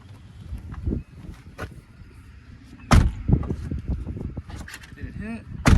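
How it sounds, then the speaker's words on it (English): A C6 Corvette door swings shut on a sharp single thud during a bucket seat install, with lighter clunks and rattles around it and someone speaking close by. "I hope this door closes because look at that"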